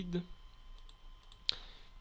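A computer mouse clicks while setting up Android development preferences on Windows: a faint click near the start, then one sharp, close click about two-thirds through over a quiet room hum, with no talking.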